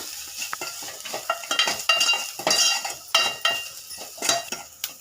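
A spoon scrapes and stirs a mixture seasoned with turmeric and salt as it fries in a pan, making uneven scraping strokes and knocks over a steady sizzle.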